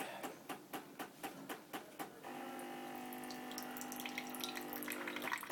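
Tea pouring from a Tassimo pod machine into a cup: a steady liquid stream and hiss running continuously after a few short clicks or pumping pulses at the start.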